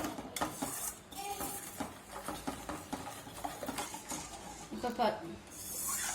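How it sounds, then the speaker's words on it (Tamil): A spoon scraping and clinking against a pot as homemade chocolate syrup of sugar and cocoa powder is stirred over a low simmer, with steady, close clattering strokes and no voices. "அடுப்பை வந்து சிம்மில் வச்சு கிளறிட்டே இருங்க"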